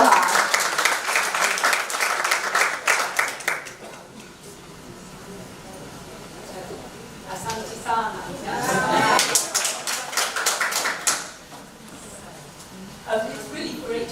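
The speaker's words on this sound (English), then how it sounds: "A round of applause for her." A round of applause for a visiting University of Liverpool professor at an academic talk on childbirth research: bursts of clapping come and go in waves, with quieter stretches of room noise between them.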